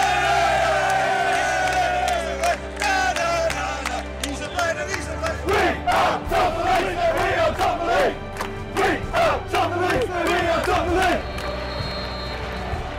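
Football fans at Allianz Stadium roar and chant in a big crowd, a loud sustained wall of voices with rhythmic shouted chanting and whoops swelling through the middle, heard close and continuous.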